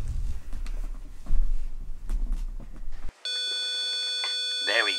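A 500 hertz tone from a small sound amplifier circuit using a 10K resistor switches on partway through, a steady buzzing electronic whine that follows a stretch of rumbling handling noise and carries on alone to the end.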